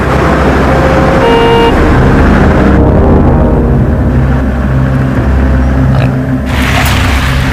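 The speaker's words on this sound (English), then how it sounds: "the cars just keep driving on by" Steady traffic on a road, cars passing continuously with a dense engine and tyre roar, a brief tonal honk early on, loud and close throughout.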